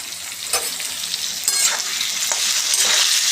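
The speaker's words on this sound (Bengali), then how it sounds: "আর নুন দিয়ে ভালো করে আলুগুলোকে ভেজে নেব সুন্দর করে" Potato pieces fry in hot oil with salt and turmeric, a loud close sizzle broken by several scraping stirs of the spatula, with no talking.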